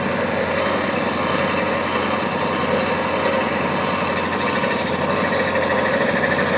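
A distributor test machine runs steadily after being plugged in, giving a loud, continuous mechanical drone and whine at close range with no breaks.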